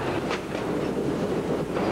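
An elevated rapid transit train in Boston rumbles along its rails with a steady, loud roar and faint rhythmic wheel clatter, heard from on board.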